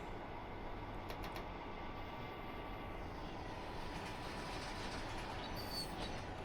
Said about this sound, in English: That looks like a train coming.